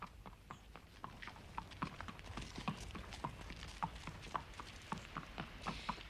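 Horse hooves clip-clop at a steady walking rhythm, fairly close, as a horse is shown off for sale in an early 1900s English country setting, with a faint murmur of background noise.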